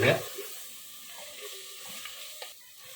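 Steady, soft sizzling of chopped tomatoes frying in a pan, with faint scraping from stirring and a brief clatter at the start.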